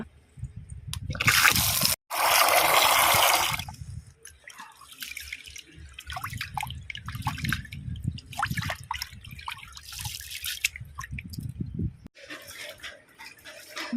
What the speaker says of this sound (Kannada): ಈ ಕೆಂಪು ಕುಚ್ಚಲಕ್ಕಿ ಇದನ್ನು ಸ್ವಲ್ಪ ಜಾಸ್ತಿ ತೊಳಿಬೇಕಾಯ್ತು